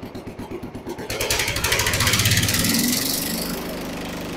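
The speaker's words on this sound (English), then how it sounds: "So there's low idle. Sounds pretty good." A Jacobsen Chief 800 garden tractor engine runs at low idle, a steady rapid chugging that rises slightly in loudness after the first second and holds close and even throughout.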